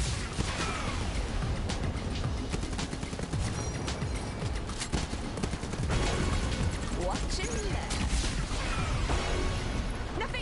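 Heavy missiles fired from a vehicle in the combat game Hardware: Rivals produce a dense, continuous barrage of blasts, whooshes and crashes with no pause, loud throughout and with a voice talking over it.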